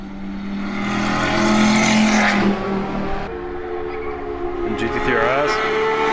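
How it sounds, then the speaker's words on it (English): A Dodge Viper ACR sports car passes at a summer car gathering in Canada, its engine note rising to a loud, harmonic-rich roar and then dropping away as it moves off, with other traffic and crowd noise around it. "Viper ACR coming by"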